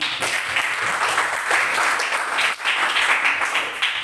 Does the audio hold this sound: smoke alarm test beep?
no